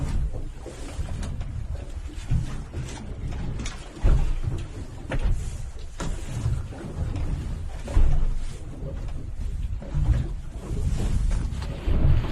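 Ocean waves wash and rumble steadily outdoors, a loud broadband roar with periodic surges, mixed with gusts of wind buffeting the microphone.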